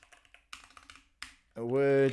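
Quick bursts of close keystrokes come from typing on a computer keyboard, and a person then starts speaking.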